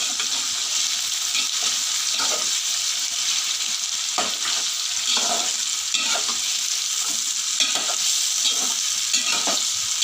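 Green chilies fry in hot oil in a pan for eggplant curry, giving a continuous close sizzle with a steady hiss and occasional stirring scrapes, with no talking.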